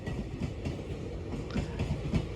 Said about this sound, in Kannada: ಇವಾಗ ಟ್ರೈನ್ ಏನೋ ಹೋಯ್ತು